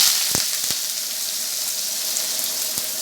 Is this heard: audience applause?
no